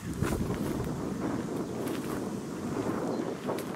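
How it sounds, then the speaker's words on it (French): Steady, blustery wind roars across the microphone throughout, a dense broadband rush with gusts rising and falling and no voices. "Il y a vraiment du vent."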